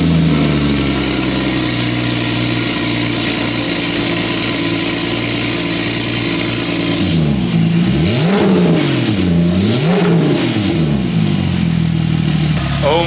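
A Porsche 997 Turbo fitted with a new exhaust idles with a loud, deep, steady drone, then blips its throttle through several sharp revs that rise and fall close by.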